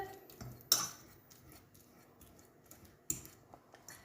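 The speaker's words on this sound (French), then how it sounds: "Je vais les écraser à la fourchette" A fork mashes cooked apples in a pan, giving soft scraping with a couple of sharper metallic clinks against the pan, quiet and close.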